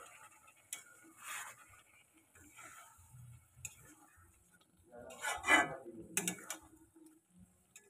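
A spoon stirs a poppy seed dish with flat beans in a frying pan, scraping and clicking in scattered bursts over a faint sizzle, with a louder clatter near the end.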